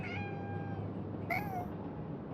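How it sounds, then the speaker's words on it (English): A cat meows twice in the video game Conarium, a long tonal meow followed by a shorter rising one, faint and alone over a low ambient hum. "Hi, kitty."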